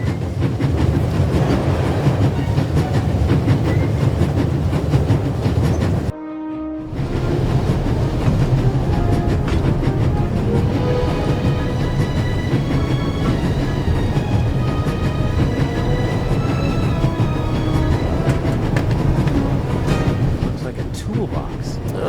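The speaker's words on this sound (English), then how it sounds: "There's nothing quite like traveling on a train." Train travel ambience from the video game The Raven Remastered: a steady, loud rumble of a moving railway carriage with rhythmic clickety-clack of wheels on track joints, continuous throughout with a brief dip partway.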